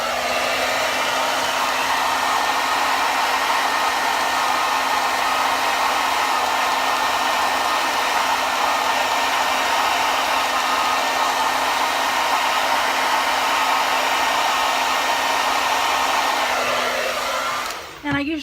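A hair dryer on a warm setting blows steadily at close range, a loud continuous whooshing roar with a constant motor whine, cutting off abruptly near the end.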